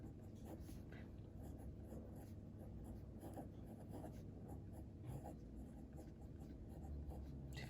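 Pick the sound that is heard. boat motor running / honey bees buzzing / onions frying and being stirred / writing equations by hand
writing equations by hand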